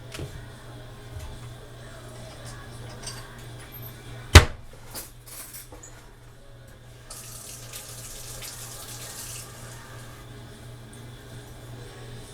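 A tap runs steadily, water pouring into a sink with a soft continuous hiss, and a sharp clatter partway through, while preparing a cornstarch slurry.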